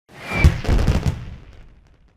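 Fireworks effect from a PC educational game for a Bastille Day celebration: a rapid cluster of crackling pops and bangs that swells, then fades out over about two seconds, heard alone.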